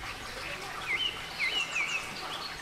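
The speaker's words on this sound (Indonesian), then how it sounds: "suara kicau burung" Small birds chirp in a mountain nature area, a few short high calls in quick succession over a soft steady background hiss, faint and distant.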